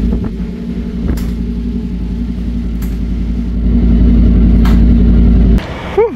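A Yamaha XSR 900 motorcycle engine with no exhaust fitted idles with a loud, raw, throbbing rumble, then swells louder toward the end before it drops and a quick blip follows.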